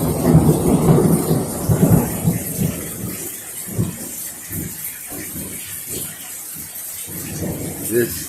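Thunder during a thunderstorm near bamboo gives a loud, deep rolling rumble at the start that fades into softer crackles and steady rain hiss.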